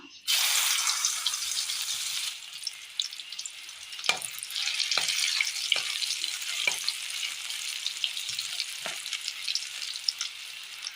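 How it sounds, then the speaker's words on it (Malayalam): Soya chunks fry in a little hot oil in a pan, giving a loud, steady sizzle that begins abruptly. Sharp clicks and scrapes from stirring break through the sizzle at intervals. "എണ്ണയിലേക്ക് സോയാബീൻ ഇട്ട് വറുത്തെടുക്കാം"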